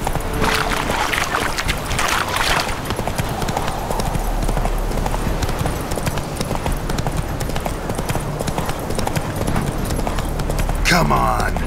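Roach, Geralt's horse in The Witcher 3, gallops with steady rapid clip-clop hoofbeats, loud and close throughout, with voices speaking briefly over the running.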